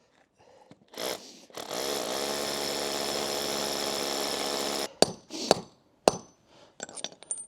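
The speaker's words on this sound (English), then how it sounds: "So I'm gonna drill right here." A power drill bores into the coping stone at the edge of a swimming pool while a safety pool cover is being installed, a steady loud whine lasting about three and a half seconds, followed by a few sharp knocks and clatters.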